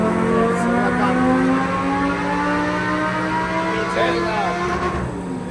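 Lamborghini engine revving loudly on a dyno indoors, a sustained harmonic roar with rising and falling pitch, and a voice speaking over it.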